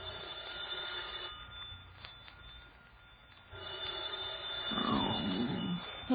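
Telephone rings in an old-time radio crime drama, faint rings over a low hum with a quiet gap partway through, then a rustling pickup-like noise near the end.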